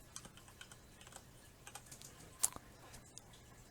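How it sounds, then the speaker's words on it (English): Keys clatter on a computer keyboard as a word is typed: a quick irregular run of light, close clicks with one sharper keystroke partway through, in a quiet room with no talk. "simply type in the words PowerPoint"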